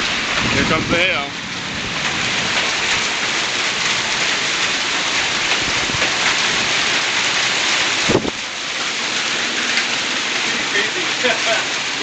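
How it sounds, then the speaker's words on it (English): Hail and rain pounding down during a June storm in North York, a dense, steady roar throughout with a sharp burst near the middle; a voice speaks briefly early on. "Here comes the hail."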